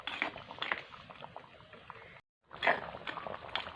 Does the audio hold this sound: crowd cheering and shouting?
no